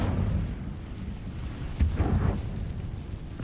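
An Incendio fire spell is cast in Hogwarts Legacy, producing a low rumbling whoosh with a brief swelling burst in the middle, over a steady game background.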